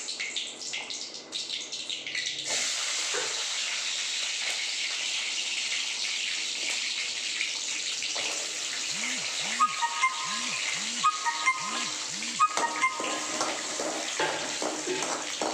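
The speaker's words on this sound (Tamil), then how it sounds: "வெள்ளைப்பூடு சேர்த்து நல்லா வதக்குங்க" Garlic sizzles in hot oil with dried red chillies for a coriander chutney, giving a steady, fairly loud hiss throughout, with faint clinks and scraping near the end and no talk.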